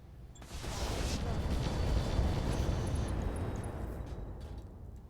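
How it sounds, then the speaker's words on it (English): Ammo cooking off inside a mech's back in Battletech with the Roguetech overhaul mod: a sustained, loud rumbling roar of explosions swelling toward the middle and slowly fading, with no talk over it. "We got ammo explosions through his back."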